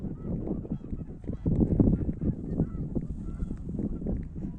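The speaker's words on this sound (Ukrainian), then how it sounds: "Чути, гуси клекочуть." Geese honking repeatedly in a steady, noisy chorus, fairly close and continuous, with a louder burst of calls midway.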